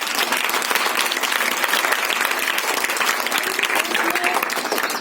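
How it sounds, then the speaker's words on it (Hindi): A crowd claps continuously for several seconds at an Ambedkar Jayanti speech, a dense, even patter of applause. "तो एक बार ताली बजा दो बेटा"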